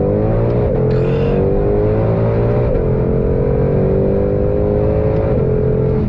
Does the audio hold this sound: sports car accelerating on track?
yes